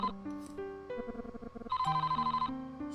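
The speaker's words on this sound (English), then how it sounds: "Sorry, phone call." A telephone rings in the Famicom Tantei Club Part II video game, a chiptune ringtone of bright, pulsing tones repeating in quick rhythmic bursts, loud and alone.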